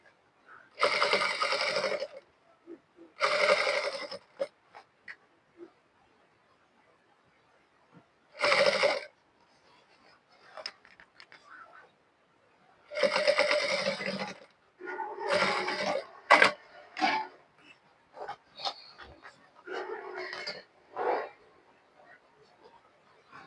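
A sewing machine topstitches a skirt waistband in several separate bursts, each a loud steady mechanical whir of a few seconds, broken by quiet pauses and softer handling noises.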